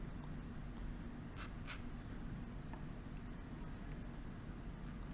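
A Western calligraphy nib presses hard on paper, scratching faint, close strokes while drawing bamboo lines. The soft, continuous scraping stays quiet, with no talking.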